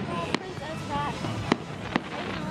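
Fourth of July fireworks go off as three sharp, well-spaced bangs over a steady outdoor murmur, with people talking throughout.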